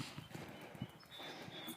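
Horses with covered heads and ears near busy roads in Keizer, Oregon, hooves clopping in a soft irregular rhythm close by, with a voice talking over them.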